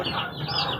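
A chicken clucks close by in a short, throaty burst lasting under a second.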